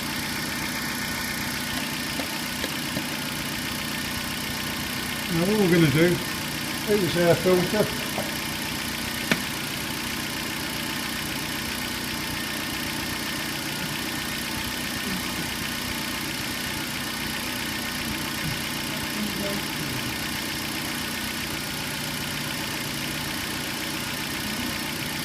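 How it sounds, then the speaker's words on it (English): Car engine idling under the bonnet, a steady low hum running continuously while someone talks briefly near the start. "This is our engine."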